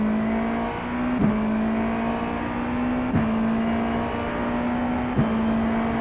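An iRacing race car cuts across a gravel trap, its engine holding a steady, loud drone while the tyres crunch and rumble over the stones, with a few brief thumps along the way.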